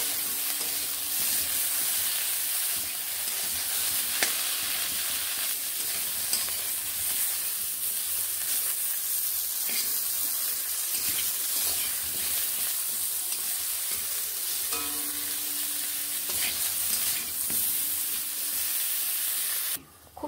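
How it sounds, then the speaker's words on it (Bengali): Eggplant pieces fry in hot oil with salt and turmeric, giving a steady, close sizzle and hiss for the whole stretch, with occasional stirring scrapes and no talking. "নুন ও হলুদ গুঁড়ো মিশিয়ে বেগুনগুলোকে বেশ ভালো করে ভেজে নেব"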